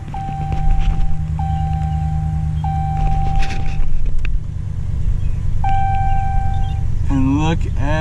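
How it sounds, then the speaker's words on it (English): A Ram pickup truck engine idles steadily after restarting, following a repair for a P0456 check engine fault. A low, even rumble runs underneath while a dashboard chime beeps several times, and a brief voice comes in near the end. "We're gonna start the truck back up."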